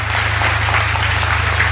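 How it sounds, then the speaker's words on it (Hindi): Loud applause for guests at a motivational speech event in Muzaffarpur, a dense continuous wash of crowd clapping over a steady low hum. "उनके लिए जोरदार तालियां हमारे मेहमानों के लिए।"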